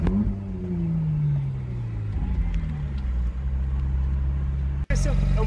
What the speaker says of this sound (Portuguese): É um motor V8 de 580 cavalos que entrega tudo de imediato. Então, curte aí um pouquinho o motor.